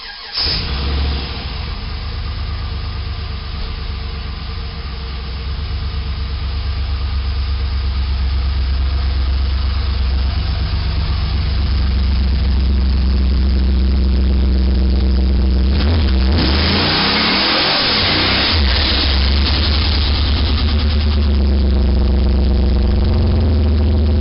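A turbocharged Volvo 240GLE with an LS2 engine swap runs steadily on a street, its deep engine note holding low and loud before a brief surge of revving, then settling back to a steady drone. No one speaks.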